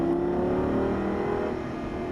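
A Lamborghini Gallardo Superleggera engine rising in pitch as the car accelerates out of a corner, a loud close-up rev with a sustained tonal whine settling into rougher engine roar.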